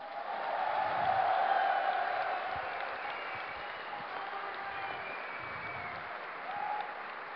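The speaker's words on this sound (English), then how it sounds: "let's give a big round of applause to our second place player, Mana." A crowd at a DreamHack StarCraft II tournament final applauds the second-place player, a dense wash of clapping that swells for the first couple of seconds and then holds steady, with faint cheers mixed in.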